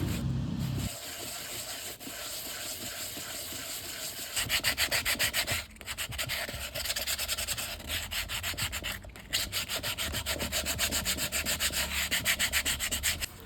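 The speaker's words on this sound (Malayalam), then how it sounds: "സാൻഡ് പേപ്പറോ അല്ലെങ്കിൽ എമിലി പേപ്പറോ എന്തെങ്കിലും വെച്ചിട്ട് അതിൻ്റെ ആ വക്ക് നമ്മുടെ ബേസ് കട്ട് ചെയ്ത് 2 ഭാഗം ഒന്ന് സ്മൂത്താക്കണം" The cut edge of a cement cup planter is sanded by hand with sandpaper, giving a quiet, steady rasping rub in quick repeated strokes with brief pauses, close and alone.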